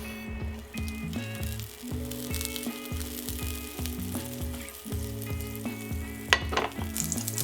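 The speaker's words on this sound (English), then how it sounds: "Take a pan or wok and melt 1 teaspoon of butter." Butter melting in a pan or wok, a teaspoon of it, sizzling and frying steadily while a utensil stirs and scrapes, with background music playing over it throughout.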